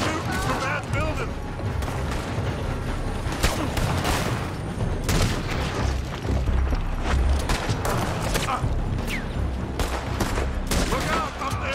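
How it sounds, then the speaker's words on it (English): Dense, continuous exchange of gunfire from a building in the video game Red Dead Redemption 2, with overlapping sharp cracks and booms at close to middle distance, and voices talking over the shooting. "They're shooting from that building."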